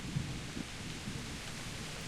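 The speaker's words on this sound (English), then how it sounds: "The rain looks nice, honestly." Rain and thunder in Kingdom Come: Deliverance: a steady hiss of falling rain with soft low rumbles underneath, faint and continuous, with no voices.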